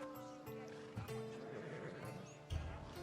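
In Assassin's Creed Odyssey, a horse whinnies briefly and hooves clip-clop under game sound, quiet and partly covered by a speaking voice.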